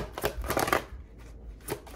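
Tarot cards being shuffled and drawn make quick papery riffles and slaps, close and moderately loud, in a short burst, then a pause and one more brief flick.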